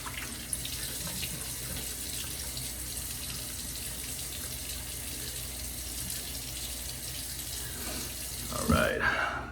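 Tap water runs steadily into a sink while a face is wetted before shaving, a constant close rush of water that ends in a brief splash.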